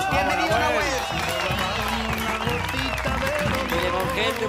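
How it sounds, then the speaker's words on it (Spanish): A television studio audience applauds a guest named Nahuel, dense clapping and crowd noise running steadily under a host talking over it. "Fuerte el aplauso para Nahuel"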